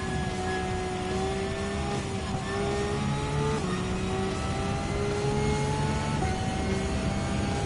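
A Porsche 911 Type 992 race car engine in Gran Turismo 7 drones steadily on the Mazda circuit, rising in pitch through each gear and dropping sharply at repeated upshifts, loud and continuous with no talk.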